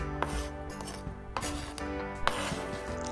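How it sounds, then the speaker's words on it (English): A knife cubes tomatoes on a cutting board, a few crisp knocks on the board with soft slicing and rubbing between them, close and quiet, with no one speaking. "start off by cubing your tomatoes"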